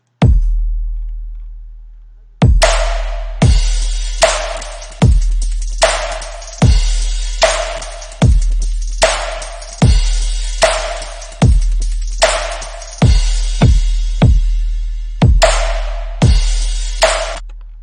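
Punchy electronic drums with a layered synth bass drop, loud kicks and bright snare hits in a steady driving groove, each hit decaying into a deep sustained low bass, with no voices.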